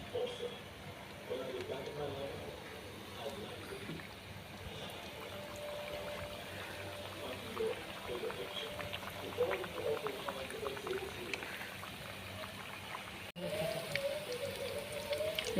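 Gorumeetilu sweets deep-frying in hot oil in a kadai, a steady bubbling, crackling fry that holds evenly throughout with a brief dip near the end, close and fairly loud.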